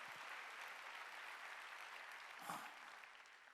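A church congregation at a worship service claps together in a steady, dense round of applause that is fairly far off and fills the whole stretch.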